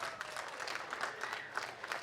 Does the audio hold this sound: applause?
yes